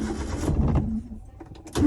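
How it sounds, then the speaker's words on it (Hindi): A car engine cranks and catches in a short, rough burst, then dies down briefly before another loud surge of engine noise at the end. "गाड़ी को स्टार्ट मारता है"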